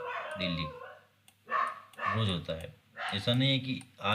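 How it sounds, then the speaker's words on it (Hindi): Dogs bark outside, distant and largely buried under a man lecturing continuously indoors. "बाहर कुत्ते भौंक रहे हैं"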